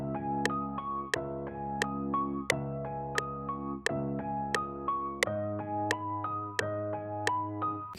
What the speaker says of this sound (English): The original piano is going to sound like this.